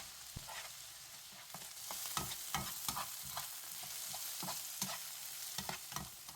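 Onion sizzles steadily in oil in a pan over medium heat while a utensil scrapes and stirs through it in repeated strokes, close and clear, with no talking.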